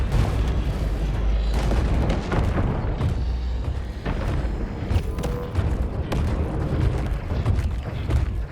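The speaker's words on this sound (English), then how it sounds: "I see a lot of fire. Incoming missiles." Incoming missiles exploding in War Robots: Frontiers, a continuous barrage of loud booms and blasts rumbling close for several seconds with no pause.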